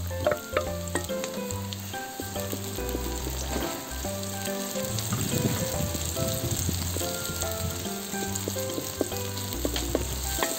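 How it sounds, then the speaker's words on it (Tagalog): Garlic, onion and ginger sautéing in a pan: a continuous close sizzle with crackles and stirring scrapes, under a backing music track with steady low notes and no talking. "nagisa na natin lahat. Bawang, sibuyas, at luya."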